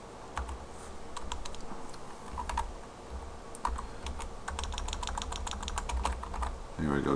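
Steady quiet keystrokes clatter on a computer keyboard while code is typed, a continuous rapid pattern of clicks with brief pauses, fairly close and alone.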